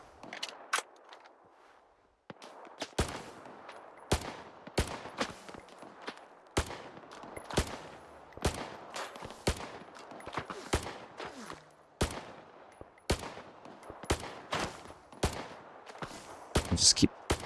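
Gunfire with armor-piercing rounds in S.T.A.L.K.E.R. 2: Heart of Chornobyl, a long run of sharp single shots fired at a steady, deliberate pace over soft ambient game background.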